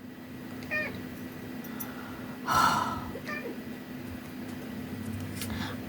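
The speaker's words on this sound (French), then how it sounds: "Un chat, c'est censé être agile, on est d'accord?" A domestic cat meows indoors, with a few short, close calls spaced across several seconds over a quiet room hum.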